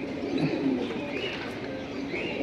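Pink-ringed pigeons at a pigeon seller's collection coo in low, soft, continuous rolling calls. The birds are close, with faint higher chirps above, and no one speaks.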